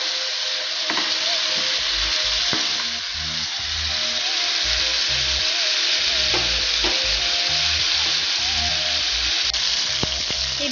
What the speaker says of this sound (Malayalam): ആദ്യം ചിക്കൻ ഇട്ടിട്ട് നന്നായിട്ട് അതിൻ്റെ കളറൊക്കെ മാറി വരുന്നവരെ അതൊന്ന് ഫ്രൈ ആക്കി എടുക്കണം.